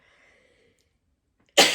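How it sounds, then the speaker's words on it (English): A single sharp sneeze bursts out loud and close near the end, set off by smoke, after a stretch of quiet with faint murmuring before it. "And I'm going to sneeze because of the smoke."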